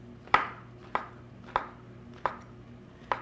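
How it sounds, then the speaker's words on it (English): A kitchen knife slices through mushroom stems on a cutting board in five crisp, evenly spaced chops, each a sharp close tap with a quick decay, against a quiet room hum. "I'm just going to give them a nice slice"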